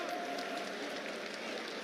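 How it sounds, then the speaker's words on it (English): A big crowd at an Arsenal versus Manchester City under-23 football match applauds from the far side of the ground, a faint, steady wash of distant clapping and crowd noise. "A couple of applause from that big crowd, as you can see over on the far side"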